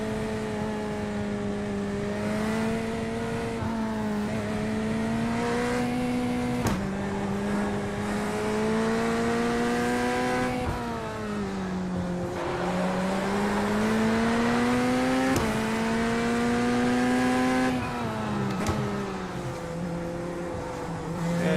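GT3 race cars circle the Nürburgring in the iRacing sim, a steady engine drone rising and falling through gear changes, continuous and close throughout with no talk.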